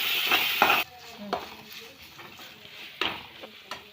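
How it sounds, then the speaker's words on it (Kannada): Ginger garlic paste frying in oil for pepper chicken. A loud burst of sizzling opens it, then the sizzle softens under several close spoon scrapes against the pan. "ಹಾಕ್ಕೊಂಡು ಹಸಿ ವಾಸನೆ ಹೋಗುವವರೆಗೂ ಕೂಡ ನಾವು ಎಣ್ಣೆಯಲ್ಲಿ ಫ್ರೈ ಮಾಡಿಕೊಳ್ಬೇಕು"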